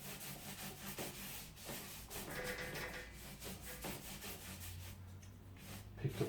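Soft, repeated rubbing strokes of a brush soaking watercolour paper with water, faint and close, with scratchy drags and occasional light taps against the board.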